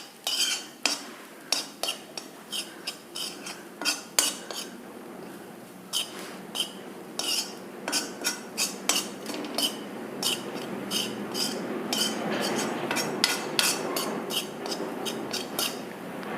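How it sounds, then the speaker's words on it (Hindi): A spoon clinks and scrapes against a pan while panjiri ingredients are stirred, producing sharp, irregular metallic taps and scraping, close and clear with no talk. "इसको एक स्पून की सहायता से सिर्फ 1 मिनट के लिए चलाऊंगी।"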